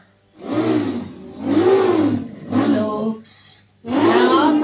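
At a children's birthday party, a voice imitates a motorbike engine, rising and falling in four or five droning vroom bursts with short gaps between them.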